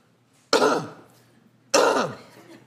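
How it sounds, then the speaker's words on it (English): Two sharp, harsh coughs about a second apart, close to the microphone, each with a quick rasping decay, separated by near silence, during a hernia cough test. "So when you cough"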